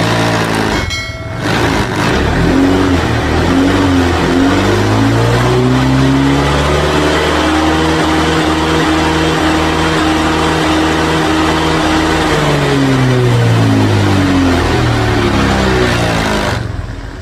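A Honda Vario 150 scooter engine with a non-working idling stop catches after a brief starter burst, then revs up in a smooth rising and falling sweep before settling back, loud and close throughout.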